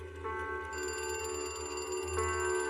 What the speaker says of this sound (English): I could hear my Aunt Jeannie screaming through the old landline phone